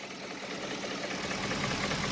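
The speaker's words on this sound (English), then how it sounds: "See, the engine's running smooth." A 2004 Range Rover HSE with a 4.4L engine idles smoothly and steadily, a continuous mid-low engine drone held at an even level throughout, with no talk over it.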